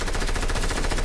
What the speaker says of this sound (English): I'll go get him with the minigun.